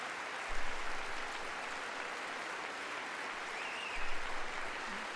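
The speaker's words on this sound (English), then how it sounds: "I'm pretty sure that's the only time Mike Johnson claps, when it's like, yay, war." Members of Congress applaud in a large chamber, a steady wash of clapping from many hands heard at a moderate distance with no talk.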